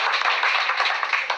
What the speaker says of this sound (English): Give Ashley a round of applause for being